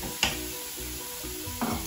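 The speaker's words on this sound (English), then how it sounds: "Just stir it for 2 minutes" Ginger garlic paste is stirred in a hot pan, giving two short scraping strokes of a spoon against the pan over a soft, continuous sizzle, heard close up and without voices.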